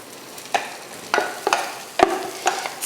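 Curry leaf rice mixed with spice powder being stirred in a pan, a few close scraping strokes over a faint sizzle, spaced about half a second apart, with no voices.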